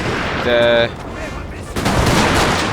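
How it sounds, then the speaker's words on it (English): Musket volleys and artillery in the Napoleon Total War game, a Waterloo 1815 battle: a loud burst of crackling fire with a brief ringing tone, then a quieter stretch and a rising roar of massed gunfire, no voices. "I am firing with everything I got here."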